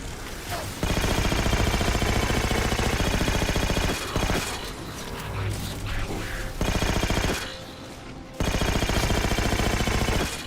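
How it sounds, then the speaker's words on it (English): Sustained loud automatic gunfire in the Halo 4 video game, firing in long continuous bursts broken by brief pauses, close and dominant with no talk over it. "Shoot that piece of crap"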